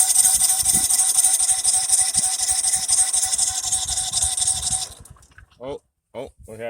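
DR woodchipper engine running steadily loud and near after a start-up, with a constant high whine and rumble that cuts out partway, followed by someone speaking.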